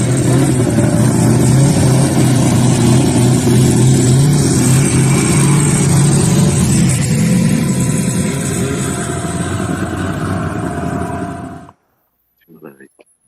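A vintage snowmobile engine drones loud and close through a ride, a steady rough roar that holds for about eleven seconds before cutting off abruptly into near silence.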